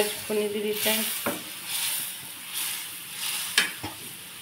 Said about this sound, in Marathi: भाजी फोडणी दिली फ्रेंड्स